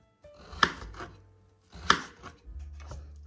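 A knife chops food on a board, worn with a cutting glove: two sharp, close strokes about a second apart with softer scraping between, no talk.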